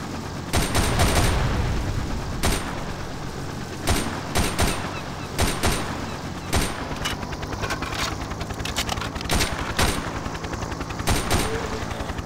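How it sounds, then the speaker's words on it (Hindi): Zombie-shooting gunfire in the mobile FPS game Unkilled comes in sharp, loud bursts and single shots repeating steadily over a low engine-like hum, with no talk. "तो बाप रे, बहुत सारा गोली मारना पड़ रहा है इसको।"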